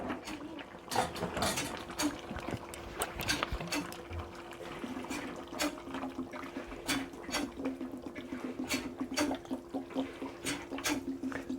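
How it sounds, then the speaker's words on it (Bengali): Water poured into a pot of nearly boiled potatoes makes a quiet, continuous splashing and trickling with small clinks, steady and close throughout, with no one talking. "সেহেতু আমি এটাতে একটু বেশি জল দিলাম"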